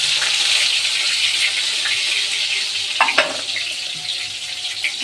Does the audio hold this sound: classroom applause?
no